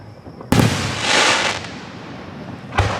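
Fourth of July fireworks bursting in Gettysburg: a loud close boom opens a long crackling, hissing spray that slowly fades, then a second sharp blast lands near the end.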